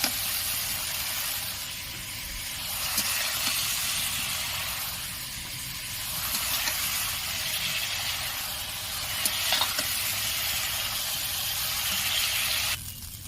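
A continuous, fairly loud hiss of ridge gourd frying in oil in a karai, broken by occasional light clicks and scrapes of stirring.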